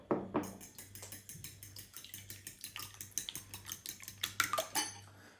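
Eggs are whisked in a bowl with rapid, regular metallic clinks and scrapes of a utensil against the dish, close and continuous over several seconds.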